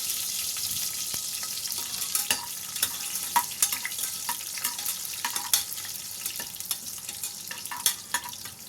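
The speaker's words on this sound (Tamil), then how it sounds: "அந்த பூண்டு மசாலா சாமான்கள் எல்லாம் போட்டு நல்லா வதக்கிக்கலாம்" Garlic and spices sautéing in ghee, a constant bright sizzle with occasional stirring scrapes and taps close by.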